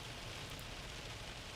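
Soaking rain pours down in a steady, dense hiss during a severe thunderstorm, with no voices over it.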